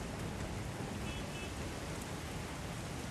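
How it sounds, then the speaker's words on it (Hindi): Heavy rain pours down steadily, a thick, unbroken hiss of water drumming on surfaces. "बहुत बारिश है क्यों?"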